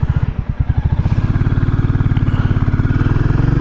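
A 2022 Royal Enfield Classic 350 single-cylinder engine while riding, a loud close rapid thumping pulse that settles into a steady even beat, with no talking.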